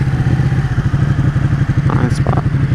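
A motorcycle engine rumbles loud and close while riding, its low, pulsing exhaust throb steady throughout, with a brief higher squeal near the end.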